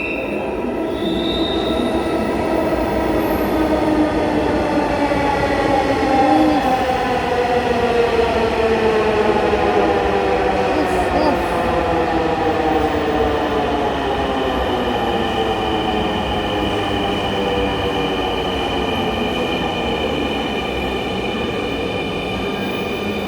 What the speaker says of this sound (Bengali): ওই তো মেট্রো রেল।